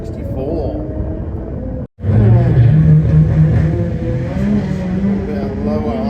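A drag racing car launching hard at Santa Pod during a test day, a loud sustained engine roar with a brief cut and then a steady revving rumble, heard under a commentator talking throughout.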